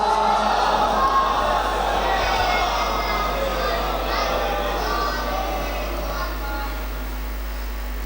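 A large crowd at a Muharram majlis recites salawat together in a loud, echoing chorus that rolls on for several seconds before slowly easing off.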